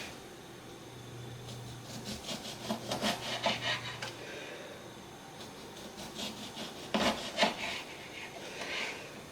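A knife slices oranges on a wooden board for dried orange slices, making quiet clusters of short rasping, scraping strokes separated by pauses, with no talking.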